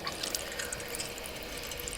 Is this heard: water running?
yes